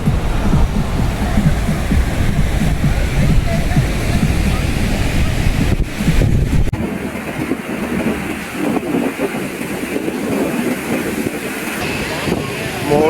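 Wind and surf roar at a busy beach in Pondicherry, a loud, continuous rush with heavy microphone buffeting in the first half that eases into a softer, steady wash of waves.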